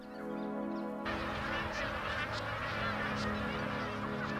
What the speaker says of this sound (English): the thousands of magpie geese that fly into Lakefield to breed